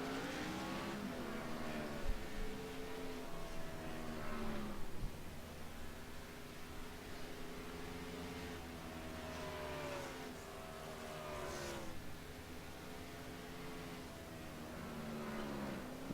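Race trucks in a sim racing game roll along pit road at a halfway pit stop, their engines droning and whining steadily through a constant blend of mid-distance motor noise with a few passing revs.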